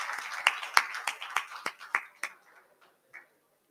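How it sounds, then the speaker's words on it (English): Scattered clapping from an audience at a bamboo technical session of a nature forum, a dozen or so distinct sharp claps that thin out and fade over a few seconds, fairly close and moderately quiet. "let's end with a kind of an applause for Kamish for organizing this event"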